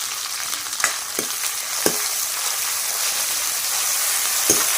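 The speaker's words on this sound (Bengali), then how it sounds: "মশলাটা একটু ফ্রাই হতে থাকুক" Spice paste of chopped tomato, green chilli, garlic paste and ground dried chilli, coriander and cumin frying in a pan, making a steady close sizzle broken by a few sharp clicks of stirring.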